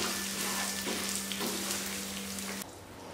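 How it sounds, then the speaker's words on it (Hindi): Bulgur wheat (dalia) roasting dry in a pan over a very low gas flame, giving a steady soft sizzle and faint scraping stir that runs for about two and a half seconds, then drops away quieter. "और इस दलिये को हम अच्छी तरीके से भून देते हैं जब तक ये सुनहरा ना हो जाए तब तक"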